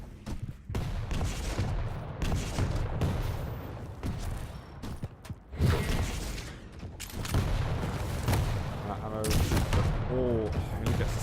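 A Quake Champions duel between Myztro.GaRpY and Nosfa, with a dense, continuous barrage of shotgun blasts, rocket explosions and game effects, loud throughout under an excited commentator's voice.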